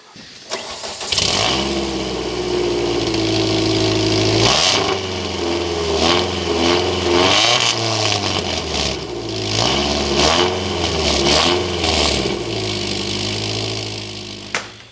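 A four-cylinder car fitted with a Thrush turbo muffler starts and idles, then is revved repeatedly in several bursts with rising and falling engine tone, loud and close, no talking.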